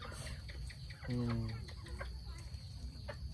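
Chickens clucking in a village in northern Laos, short close clucks and one drawn-out call over a quiet outdoor background, with faint talk nearby.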